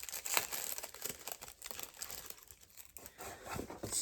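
Packaging crinkles and crumples close by, with soft, irregular crackling bursts that come and go over a few seconds at low volume.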